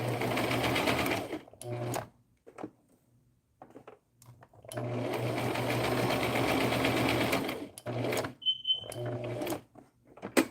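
A sewing machine stitches fabric in loud, close bursts of rapid mechanical whirring, separated by short pauses with faint handling clicks.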